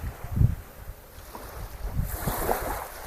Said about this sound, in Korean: 여기는 파도가 이렇게 잔잔하게 쳐요.